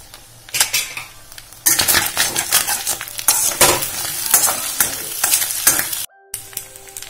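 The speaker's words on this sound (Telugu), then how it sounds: "మనం ఒకవేళ హైలో పెట్టుకుంటే కనుక మనం కంటిన్యూస్గా తిప్పుకుంటూ ఉండాలి, మాడకుండా ఉంటుంది" Vegetables fry on high heat in a pan and are stirred continuously, with loud, close sizzling, repeated metal scrapes and clatter of the utensil against the pan, then a brief silence near the end; no speech.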